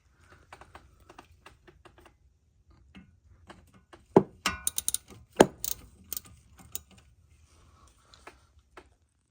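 A Torx 10 socket and ratchet back out a bolt from the brake wear sensor bracket on a Mercedes CLK500 W209. Sparse light ticks give way to a dense run of sharp metallic clicks and knocks in the middle, close and fairly quiet.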